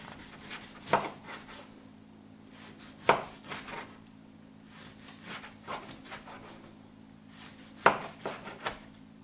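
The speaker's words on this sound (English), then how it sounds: "So I don't normally like slice my steak, but for the purpose of this video, we'll slice it" A knife slices through cooked steak on a board, three sharp cutting knocks against the wood spaced a few seconds apart with faint scraping between, quiet and with no talking.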